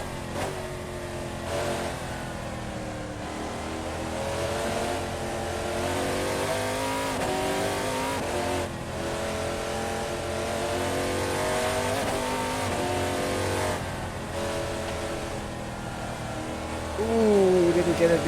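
Race car engine in Assetto Corsa at Barcelona, revving hard with steady harmonic drone, dropping under braking then climbing again on acceleration, loud and continuous with a brief surge near the end; someone talks over it.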